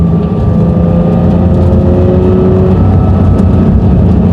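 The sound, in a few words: Porsche 911 engine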